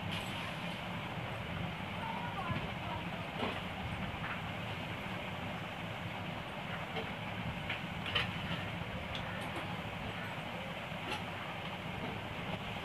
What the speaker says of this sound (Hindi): वो कितनी बड़ी ट्रेन है यार